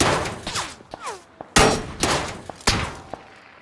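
Gunshots in PUBG, several sharp metallic cracks and clangs fired in irregular succession, loud and close, with short ringing tails and no talk.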